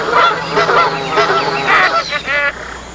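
A goose honks repeatedly in a loud, nasal series of calls, close by, with a few quick bursts near the end.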